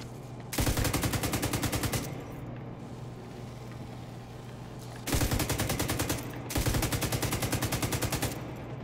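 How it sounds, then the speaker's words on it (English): Rapid automatic gunfire from The Division 2 in three sustained bursts, loud and close, the first around a second and a half long and the later two longer and nearly back to back, with steady ambient hum between. "There's like no game audio except for my shooting."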